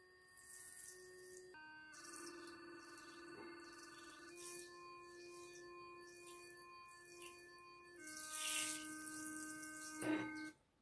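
A powerful electric toothbrush from Temu runs with a steady buzzing hum that shifts pitch several times as the brush is moved, plus a short splash of water near the end.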